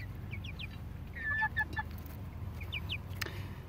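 Young chickens in a garden coop behind chicken wire chirp and cluck in short, faint, scattered calls over a steady low background hum, with no talking.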